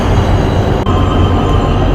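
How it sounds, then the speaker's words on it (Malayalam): Ordinary diesel-engine train passing at a station in Busan, South Korea: a loud, continuous rumbling roar of wheels and engine with faint rail squeal, steady throughout and close by. "സാധാരണ ട്രെയിന് പോകുന്നു സാധാരണ ഡീസൽ എഞ്ചിൻ"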